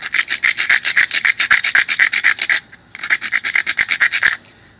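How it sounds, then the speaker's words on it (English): Rhythmic rasping of a stone grinding along the edge of a flintknapped flake, close and loud, in two runs of quick even strokes separated by a short pause. "And then you stone grind it again."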